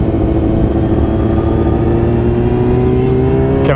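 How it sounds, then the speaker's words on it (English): Motorbikes roaring past at a charity motorbike meet in Erskine, a loud continuous engine drone with rising pitch as bikes accelerate by, close and sustained throughout. "all the bikes going by"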